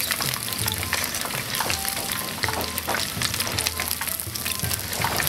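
Pork ribs deep fry in a pan of hot oil, giving a loud, continuous crackling sizzle with dense popping and occasional stirring, close by and without voices.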